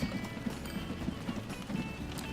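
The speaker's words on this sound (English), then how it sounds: "I love how these horses trot" Horses pull a cart in the Transport Fever video game, producing a steady trotting clip-clop rhythm of soft hoof beats over a low rolling background hum.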